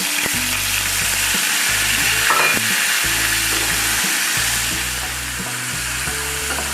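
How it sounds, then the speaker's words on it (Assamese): Onion paste hitting hot oil with black cumin seeds for an Assamese fish curry sizzles loudly and continuously close by, with a stirring scrape near the middle and a steady low hum beneath. "ক'লা জিৰাকেইটা ফুটাই লোৱাৰ পিছত তাতে আমি বাতি লোৱা যিখিনি পিঁয়াজ আছিলে, পিঁয়াজৰ পেষ্টটো ইয়াতে ঢালি দিম।"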